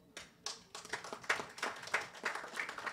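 Scattered hand claps from a modest audience at a library opening ceremony, a steady patter of individual claps, fairly quiet and slightly distant.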